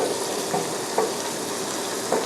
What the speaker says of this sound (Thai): ผัดไปเรื่อยๆครับให้มันแตกมันออกมา